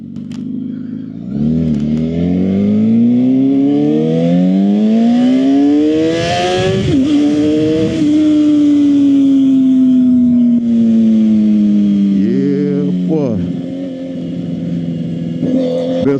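A Suzuki GSX-R 750 sport motorcycle revs loudly and climbs through gears on a ride to work, its engine pitch rising and falling in long sweeps under constant close wind and engine roar.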